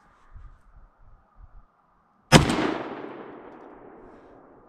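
A G Force Arms GFY1 shotgun fires a single heavy turkey round at an empty can downrange outdoors: one sharp, loud blast with a long fading tail, after a few quiet low thumps, with no talking.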